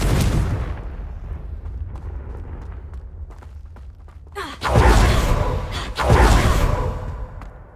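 A fiery Confringo blast spell from Hogwarts Legacy: a rising whoosh bursting into two heavy, roaring explosions about a second apart, loud and close over low rumbling ambience.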